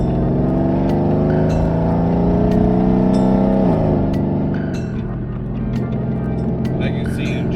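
Mercedes C63 on air suspension rolling over a rough stretch of road, a loud steady engine drone inside the cabin that rises slowly, then dips and settles, with small thumps and rattles from the surface.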